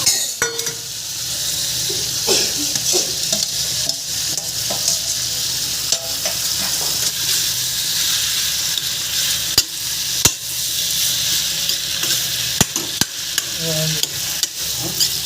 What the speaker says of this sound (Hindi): और तड़का जब हमारे पक जाएगा, मसाला थोड़ा लाल हो जाएगा, तो इसमें सब्ज़ी डाल देंगे।